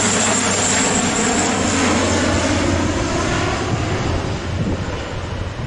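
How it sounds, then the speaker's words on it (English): Loud, steady roar of an airplane engine passing overhead near the site of the Wright brothers' first flight, holding strong before easing off slightly toward the end. "That plane that just flew over wouldn't have been possible without the Wright brothers."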